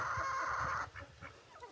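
Chickens cluck by a homestead chicken coop in deep winter cold: one sustained, loud squawk followed by several short, rhythmic clucks, close and alone.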